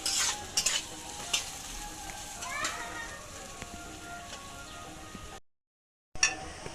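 Beetroot, carrot and beans fry in a pan while being stirred, giving a steady sizzle with soft scraping strokes, moderately close, broken by a brief silent gap near the end.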